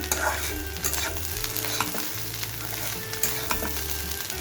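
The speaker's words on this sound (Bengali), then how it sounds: "এ পর্যায়ে ঘন ঘন নেড়ে নিতে হবে" Strips of gourd peel frying in a pan while being stirred, a steady close sizzle with scraping and clinking from the utensil against the pan.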